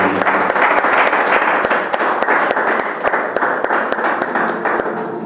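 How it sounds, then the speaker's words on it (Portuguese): A church congregation claps along in a steady rhythmic beat, loud and close, sharp hand claps spaced evenly over a bright wash of crowd noise. "Salve de palmas, Senhor."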